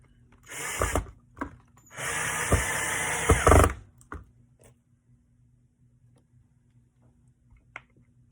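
A power drill drives screws into small pilot holes in a studio build, two close whirring bursts, the second longer and ending in a straining bind, followed by a few light ticks and knocks before quiet.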